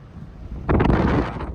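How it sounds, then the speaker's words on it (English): A strong gust of wind roars into the microphone partway through, a rough blustery rush that eases off toward the end. "Very windy still"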